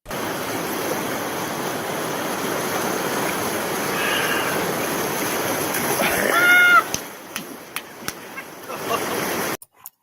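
Steady rushing water splashes as Bear Grylls washes his hair outdoors, a broad continuous wash of noise with a few sharp splatters near the end before cutting off abruptly.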